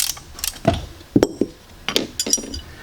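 Tools clink and ratchet while tension is released from the alternator belt on a ski boat engine being winterized: a few close metallic clicks and knocks in short bursts, with no talk.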